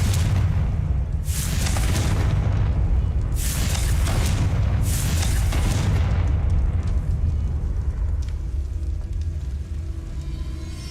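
Confringo blasting spell in Hogwarts Legacy: several loud booming explosions in quick succession over the first six seconds, each with a rumbling tail, fading into a lower continuous rumble afterward.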